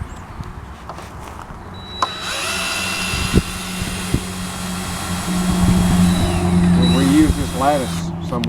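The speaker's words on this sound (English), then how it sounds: "I hope I've got the right drill bit." Power drill driving into a wooden post pulled from the ground, its motor whine rising and falling in bursts with a few knocks, fairly loud and close over steady outdoor background.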